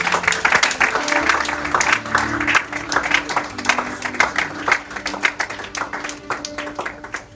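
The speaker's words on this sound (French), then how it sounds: "acclame très fort" A church congregation claps and cheers loudly after a closing prayer, dense sustained applause with voices mixed in, filling the room without a break.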